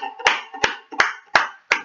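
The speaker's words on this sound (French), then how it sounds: "Applaudissons la parole." A church congregation claps in unison: five sharp, evenly spaced claps in a steady rhythm, loud and close, with no voices over them.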